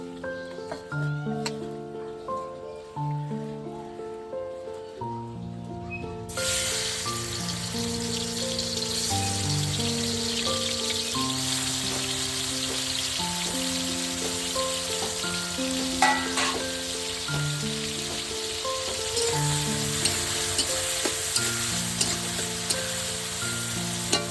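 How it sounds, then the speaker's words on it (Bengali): Prawns rubbed with salt and turmeric frying in hot oil in a kadai, starting with a quiet crackle and then settling into a loud, steady sizzle with sputtering pops. Soft music plays underneath and no one speaks. "আগে চিংড়ি মাছটা ভেজে নেব।"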